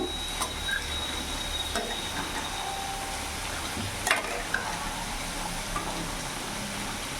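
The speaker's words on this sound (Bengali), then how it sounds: "এখন কিছুক্ষণ ধরে আমি কষাবো।" Hyderabadi green chicken being stir-fried in a pan on a gas flame, with a soft steady sizzle broken by light scattered clicks and scrapes of a utensil against the pan.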